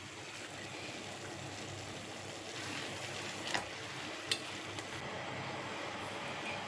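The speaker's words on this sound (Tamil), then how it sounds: "இப்போ பார்த்தீங்கன்னாக்கா தண்ணி நல்லா கொதிச்சிச்சு" Water at a rolling boil in a pot, ready for washed ash gourd pieces for Agra petha, gives a steady, faint hiss and bubbling wash with no talk, broken by a couple of brief clinks.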